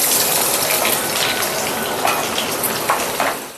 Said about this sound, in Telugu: వాటర్ తోటి వేసుకుంటున్నాను.